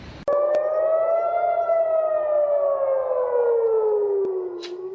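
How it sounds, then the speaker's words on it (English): Air raid sirens blast over Jerusalem after a missile interception: one loud, sustained wail that rises slightly and then slowly falls, heard clearly with nothing else over it. "you're listening to sirens blasting in Jerusalem yesterday after Israel's military intercepted a missile"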